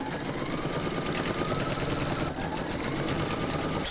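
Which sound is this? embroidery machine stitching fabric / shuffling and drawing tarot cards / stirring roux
embroidery machine stitching fabric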